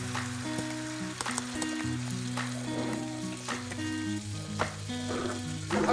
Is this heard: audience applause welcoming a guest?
no